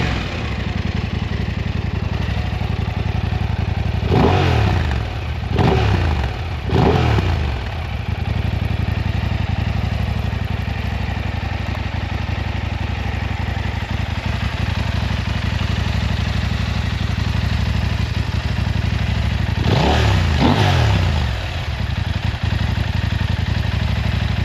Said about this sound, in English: And like I said, the Akrapovic exhaust.